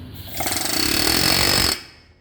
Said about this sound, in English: good old air hammer with a pointed bit right in here and just pretty easily